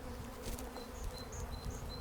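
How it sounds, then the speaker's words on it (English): A swarm of bees buzzes faintly in a steady hum around a bush, with individual insects droning past, quiet and somewhat distant. "I can hear bees going for me, and you might hear it on the microphone as well"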